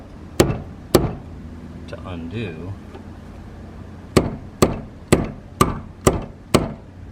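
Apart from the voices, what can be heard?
hammer striking flat screwdriver to loosen fuel pump ring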